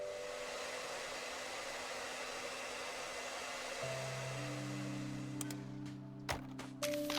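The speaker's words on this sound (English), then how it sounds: "I get the vacuum now." A vacuum cleaner in the cleaning game Undusted runs as a steady airy whir, joined partway by a louder tonal motor hum and a few sharp clicks near the end.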